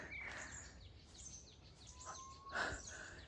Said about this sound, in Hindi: और चिड़ियों की चहचहाने की आवाज़।